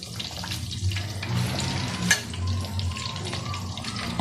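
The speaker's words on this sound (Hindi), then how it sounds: "दरमियानी आंच पे इसको फ्राई करना है।" Fish frying in a kadai over medium heat, a soft continuous sizzle and bubbling with a brief clatter partway through, heard close with no talking.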